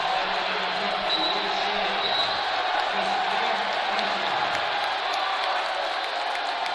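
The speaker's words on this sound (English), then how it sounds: "And the crowd going nuts." A packed gym crowd roars at a Wesleyan vs. Amherst men's college basketball game, a loud, sustained wall of cheering and shouting with faint whistles and a commentator's voice underneath.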